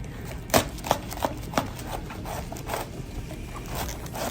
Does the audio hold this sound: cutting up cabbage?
yes